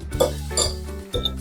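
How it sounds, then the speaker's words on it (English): A fork scrapes and clinks against a dish while breaking up cooked cold rice, a few quick metallic taps and scrapes heard up close. "Let's break the rice with a fork"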